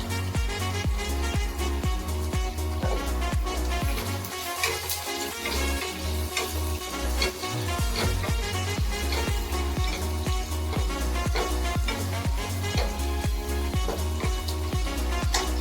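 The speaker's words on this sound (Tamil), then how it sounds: "வெங்காயம் பொன்னிறமாக வதங்கிருச்சு." Onions sautéing in a pan for Pallipalayam chicken, a continuous sizzle and fry with repeated scraping stirs over a steady low hum, no talking.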